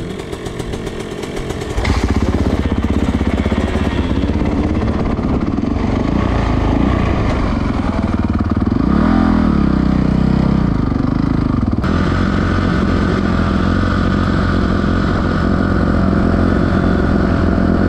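KTM 150sx two-stroke dirt bike on a trail, kick-started after a quiet moment, then a loud, close, buzzing idle broken by several rising and falling revs.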